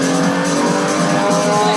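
A car in a PlayStation 1 racing game's driving-school simulator drives with a loud, dense, steady engine drone, with slight tire-squeal texture throughout and no pauses.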